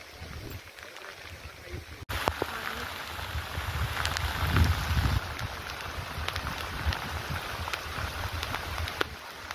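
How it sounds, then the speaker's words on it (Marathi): Steady rain patters continuously in the background, with some wind noise buffeting the microphone and a few brief voices. "बघू शकताय तुम्ही पाठीमागं कंटिन्यू पाऊस चालू आहे"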